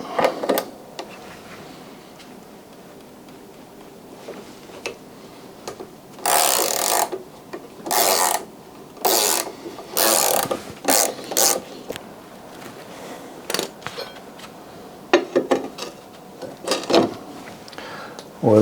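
A ratchet undoing a fastener on the lower control arm of a Saab 9000, in bursts of close, loud clicking and grinding separated by quieter pauses with faint handling noises.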